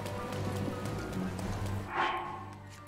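Steady rain patters across the ground at Hyrule Castle in the video game Zelda: Breath of the Wild, a dense hiss with a brief louder swell near the end and no talking.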